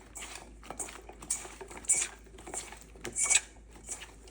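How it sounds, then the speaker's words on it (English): Okra being tossed and mixed in a bowl with wet batter, giving soft, irregular wet patter and light clinks of utensil against the bowl, close and fairly quiet, with no talking. "we're going to add this to the okra and mix it well to make sure that they are well coated"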